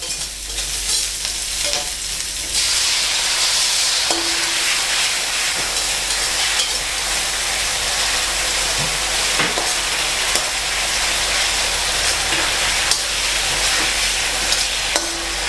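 Sea bass stir-fried with black pepper sauce sizzles and hisses steadily in a hot pan, with occasional scraping stirs and small clinks, loud and close throughout with no talking.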